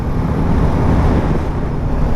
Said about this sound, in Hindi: हवा बड़ी तेज़ है यहाँ पे